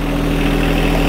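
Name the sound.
John Deere compact tractor engine starting and idling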